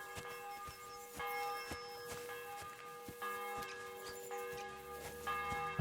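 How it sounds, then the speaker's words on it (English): A church bell in a medieval Bohemian village in the game Kingdom Come: Deliverance II rings in repeated distant strikes, each tone ringing on and overlapping the next at a moderate, steady pace. "I've got to assume that that's the bell up there."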